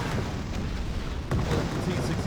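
Artillery barrage in the real-time strategy game Wargame: Red Dragon, a steady rumbling wash of distant booms with a sharper impact about halfway through, all under a dense low roar.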